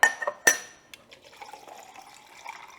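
Sangria of wine, juice, muddled fruit and spices poured into a shaker over a kitchen sink: a sharp clink at the start, then a soft, steady trickle of liquid filling the container, close and fairly quiet.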